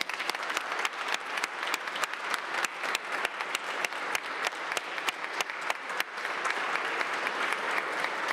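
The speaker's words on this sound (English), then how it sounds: "Let's give Tim another round of applause on his way out" An audience at a city council meeting gives a sustained round of applause, dense, steady clapping at moderate volume that carries on evenly for several seconds with no talk over it.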